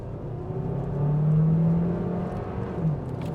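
A 2024 Hyundai Tucson hybrid accelerates at full throttle, its engine note rising into a smooth, steady whir that swells and then holds with no talking.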